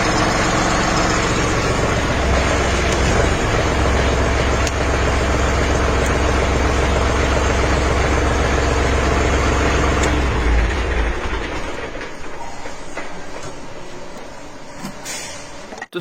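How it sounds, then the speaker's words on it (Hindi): A John Deere tractor's CRDi diesel engine runs steadily with a deep, rumbling throb close by, then the low rumble drops away near the end. "आपको पता चले कि ट्रैक्टर साउंड कैसे करता है CRD इंजन में"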